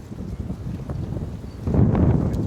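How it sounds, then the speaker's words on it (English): Wind gusts outdoors near beehives in early spring, a rough low rumble of air buffeting the microphone that swells louder toward the end, with no talking. "It's windy out today."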